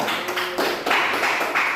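A class of students claps together in a classroom, a close, busy burst of many hands in uneven rhythmic waves lasting a couple of seconds.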